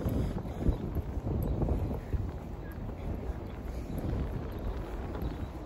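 Strong wind blows and buffets the microphone outdoors in green countryside in New Zealand, a constant loud rumble with gusty swells and no speech.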